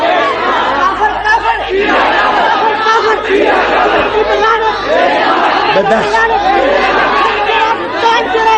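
A large crowd at a religious gathering shouts back in unison, loud and dense, with many voices overlapping in a sustained roar throughout.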